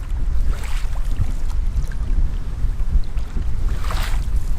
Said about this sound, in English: I got a beautiful tailwind right now too